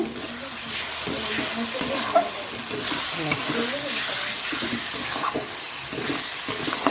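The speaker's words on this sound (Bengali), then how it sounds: "এটা ভালো করে একটু কষিয়ে নিই" Mutton and tomato sauté in a pan, a steady sizzle broken by repeated scraping stirs of a spoon against the metal, fairly close and without speech.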